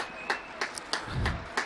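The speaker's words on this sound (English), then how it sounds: "big round of applause from the spectators of Sharlston and Oldham" Spectators at a 2009 Challenge Cup rugby league match between Oldham and Sharlston applaud an injured player leaving the field, scattered claps from a small crowd heard from a distance.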